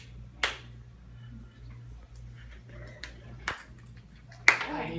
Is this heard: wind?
no